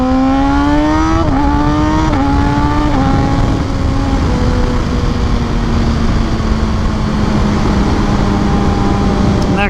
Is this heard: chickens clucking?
no